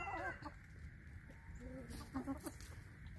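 Chickens around three years old cluck softly on a small farm, scattered low calls and a few sharper squawks coming close and quiet against faint background noise.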